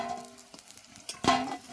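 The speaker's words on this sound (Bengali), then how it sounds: "দেখুন এটাকে আর একবার ভেজে নেব" Chicken pakoda fries a second time in hot oil, giving a low sizzle with a sharper burst of crackle near the end, close up and without talk.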